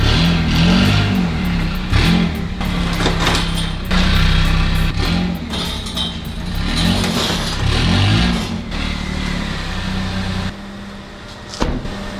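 A car engine revving repeatedly as it creeps up onto a homemade scrap-wood ramp in a garage, loud and close, with rising and falling surges before it settles and a brief knock near the end.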